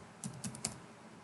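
Four quick, light keystrokes on a computer keyboard, close and quiet, then a brief pause, with no talk.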